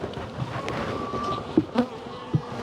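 Honeybees hum in a low, steady drone at an open hive during an inspection, close by and fairly quiet, with a few soft knocks and handling sounds.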